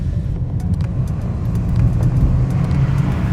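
A BMW 330Li with a 2-litre turbocharged petrol engine accelerating in sport mode, a loud steady low engine drone with road noise building slightly over a few seconds, no talking.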